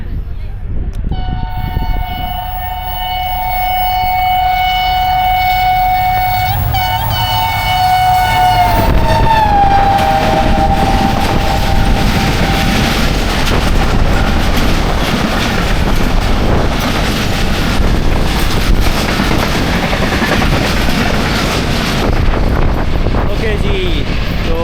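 The Karakoram Express horn blows a long sustained chord, then the train thunders through Jung Shahi station at 100 km/h, a loud continuous roar and rattle of passing coaches that fills the rest of the stretch.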